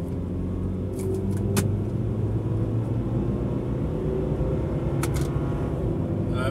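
A Subaru fitted with a stainless steel exhaust system accelerates hard, its engine and exhaust making a loud, steady rumble. The noise rises through the gears and stays close and continuous for the whole stretch, with no one talking.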